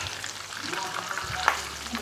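Food fries in hot oil in a home kitchen, a close, steady crackling sizzle with scattered pops and one sharper spit, heard alone without talk.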